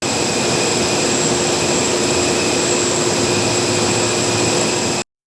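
A jet engine roars at a steady, loud level, a continuous broadband rush with a few sustained high tones running unbroken for about five seconds before cutting off abruptly.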